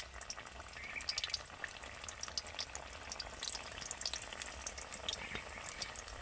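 Pieces of raw green banana fry gently in oil with a soft, continuous crackling sizzle full of tiny pops, fairly quiet and with no voices.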